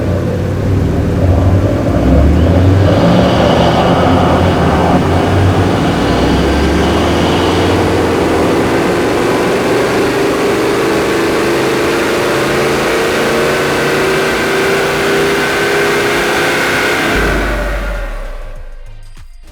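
A remapped Toyota 78 Series fitted with aftermarket accessories runs hard on a dyno, its loud, steady engine roar climbing in pitch through a long pull for about seventeen seconds before cutting off abruptly.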